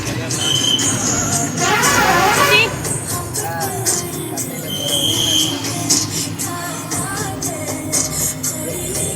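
A bus heading toward the Mayilam Murugan temple rumbles along with a steady engine drone and occasional high squeals, while voices chatter nearby throughout.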